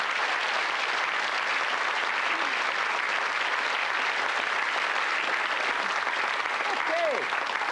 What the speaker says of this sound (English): A big round of applause for them, ladies and gentlemen.